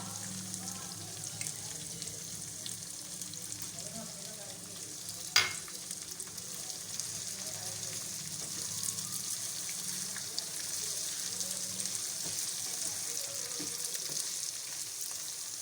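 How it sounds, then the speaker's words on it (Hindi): Chicken masala with tomatoes fries in a pan for chicken fry, a soft, even sizzle that runs throughout with one sharp clink of a utensil partway through and no voices. "टमाटर डाल के भी हम इसे थोड़ा सा भूनेंगे ताकि टमाटर सॉफ्ट हो जाए।"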